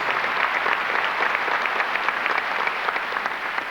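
Graduation ceremony audience applauding for district administrators, a dense, loud burst of many hands clapping continuously from start to finish with no speech over it.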